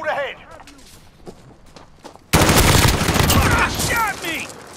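Gunfire erupts in a team deathmatch video game, with a sudden dense burst of rapid automatic shots and footsteps following quieter in-game voices and movement; loud and continuous through the second half.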